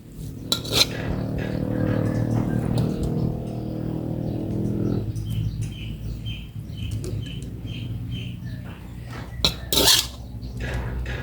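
Stir-frying basil with glass noodles and fish balls in a pan, with irregular clinks and scrapes of a utensil against metal, a low hum early on, and louder clatters near the end; no talking.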